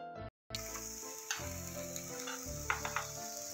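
A tomato and onion masala roasts in a pan for lauki kofta: a continuous, fairly quiet sizzle, broken by a brief gap near the start and a few scraping stir sounds, with no voices.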